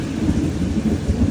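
Thunder rumbles during a sudden downpour near a flyover, a deep rolling roar with the hiss of heavy rain, loud and continuous through the short moment.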